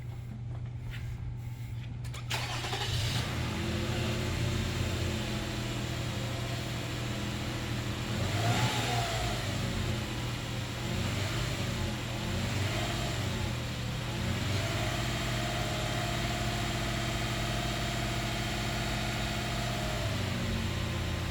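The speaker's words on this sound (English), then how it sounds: "So I'm going to start this up and show you what that sounds like." A jumper car's engine cranks over after a short quiet moment, catches and settles into a steady fast idle around 1500 RPM, running loud and close with a constant low drone and small fluctuations in pitch.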